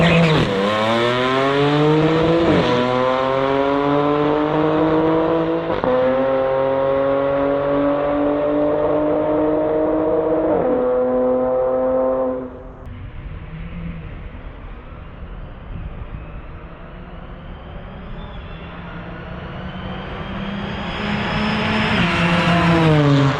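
A 2012 Audi S4 launches down a drag strip, its engine revving hard and climbing through several gear shifts, each pitch rise cut by a quick drop, before settling into a lower, fading drone.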